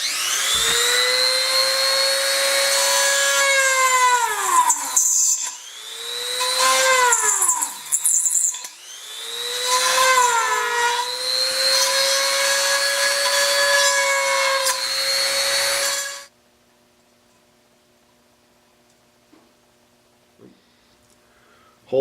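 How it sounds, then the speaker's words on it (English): A small Dremel rotary tool fitted with a tapered bit grinds into a thin metal tuna can, a loud high whine that bogs and recovers in three long bursts before cutting off to near silence. "Got a little Dremel tool with a tapered bit on it."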